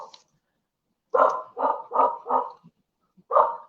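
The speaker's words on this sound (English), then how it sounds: "my dog is warning you." A dog barks close by in a quick run of four sharp barks, then one more after a short pause, with no talking.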